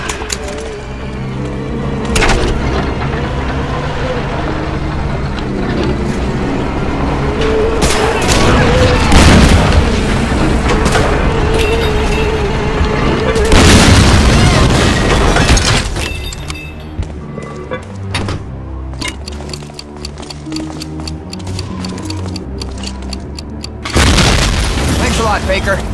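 Heavy cannon fire and explosions in the World War II shooter Medal of Honor Allied Assault in Sicily, loud deep booms and cracks over dramatic music with shouted voices now and then.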